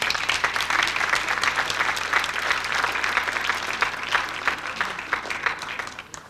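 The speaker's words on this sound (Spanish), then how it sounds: "Un aplauso, por favor" An audience at an international scientific meeting applauds steadily for several seconds, a dense roomful of clapping that fades out at the end.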